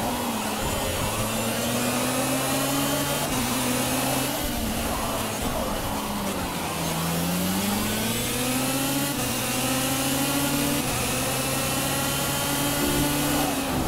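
Kart engines racing in the video game Project CARS, a constant high buzzing whine that rises and falls in pitch with throttle and gear changes, loud and unbroken throughout.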